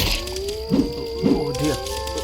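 Hungry wolves in the audio game Survive the Wild give two rising, drawn-out howls, each followed by a wavering tail, over a low steady game ambience.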